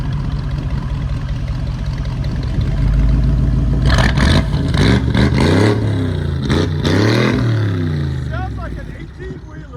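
A 1999 Ford E-250 van with a 5.4-litre V8 and true dual straight pipes idles with a deep rumble, then revs hard several times in loud, close bursts before settling back, with people talking around it.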